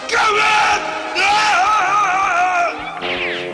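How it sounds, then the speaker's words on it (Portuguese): Loud, drawn-out cartoon yell of Captain Caveman from the animated TV series, a wavering, bellowing cry in repeated sustained bursts, ending in a rising whooping flourish. "já ouviu aquele grito ecoar na sua cabeça. Capitão Caverna!"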